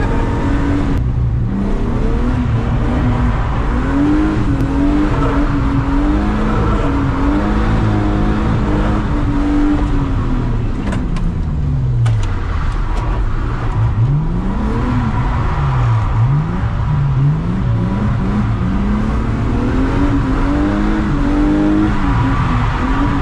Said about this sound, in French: Moteur en bonne santé ou pas?